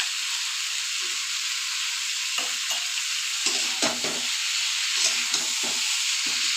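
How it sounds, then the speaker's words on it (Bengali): Rohu fish curry with potato and cauliflower stirred and fried in a pan, a steady loud sizzle with scraping spatula strokes and a few sharper clacks, close up and without speech. "এবার ভালো করে নাড়াচাড়া করে দিয়ে ডেকে ডেকে কষিয়ে নেব।"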